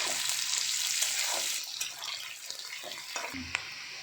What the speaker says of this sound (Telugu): ఉల్లిపాయలు వేసుకోవాలి బాగా తిప్పుకోవాలి ఉల్లిపాయలు కొంచెం బ్రౌన్ కలర్ వచ్చేదాకా